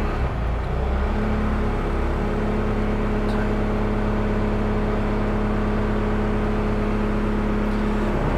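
Bobcat T86 compact track loader diesel engine running at a steady idle, a close, loud continuous drone with a constant hum and whir and no talking over it.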